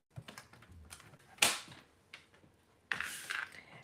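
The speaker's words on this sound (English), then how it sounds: "So you're just going to place it on your trimmer and cut straight across." A paper trimmer slices straight across a sheet of paper while an Easter bag is being made: a few sharp clicks and snaps with two louder cutting strokes, close and crisp in an otherwise quiet room.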